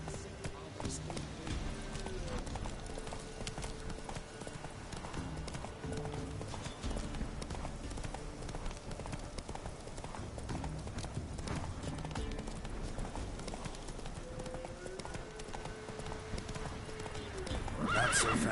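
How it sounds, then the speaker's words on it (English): Horse galloping in The Witcher 3 video game, a steady rapid clip-clop of hooves under continuous game music and ambience, with a neigh and spoken lines mixed in. "Run, Roach."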